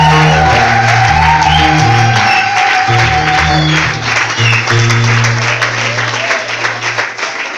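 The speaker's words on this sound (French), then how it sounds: "Acclamez pour mes choristes." An audience applauds and cheers for backing singers at a live gospel-style event, loud sustained clapping with shouts and whoops layered over a steady low musical drone, continuing throughout.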